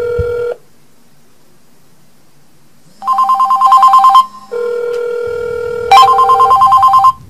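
Cell phone ringing during a call test, a loud electronic ringtone of steady tones that stops after half a second and then returns in repeating, stepped bursts with a short gap.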